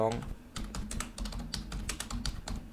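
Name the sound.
typing code on a computer keyboard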